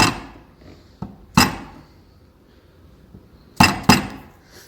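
A chisel struck with a wooden mallet while cutting a hinge housing into a wooden door edge: four sharp, close knocks in two pairs, separated by quiet stretches.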